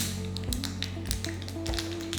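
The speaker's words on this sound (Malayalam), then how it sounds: "കടുക് പൊട്ടിത്തുടങ്ങി." Mustard seeds crackling in hot coconut oil in a pan, with quick, irregular sharp pops and taps close up over a steady low hum.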